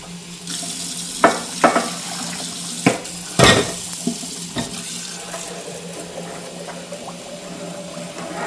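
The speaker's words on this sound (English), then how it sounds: "We just run hottest water we can get from the tap" Hot water runs steadily from a kitchen tap while sugar syrup is mixed for strawberry wine, a constant close rushing stream with a few sharp clinks and knocks near the start.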